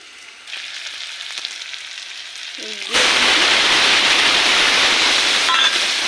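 A spice paste of ground cumin and ginger-garlic, loosened with a little water, hits the hot pan for prawn curry, a faint clink giving way to a loud, steady sizzle that fills the rest of the moment.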